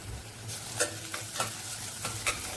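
A paste of green chili, coriander, ginger and garlic sizzles and fries in a pan, with faint stirring scrapes breaking in now and then over a soft, steady hiss.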